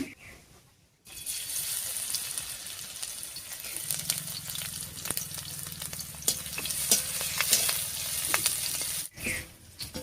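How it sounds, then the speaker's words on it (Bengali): Crushed garlic and slit green chillies hit hot mustard oil with a sudden loud sizzle that carries on steadily, joined by scraping stirs and a low bubbling hum, with no talk. "এবারে থেতো করা রসুন আর চেরা কাঁচা লঙ্কা দিয়ে ফোড়ন দিব।"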